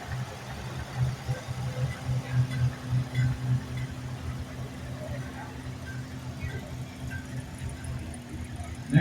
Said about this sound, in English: driving a 1962 Oliver 880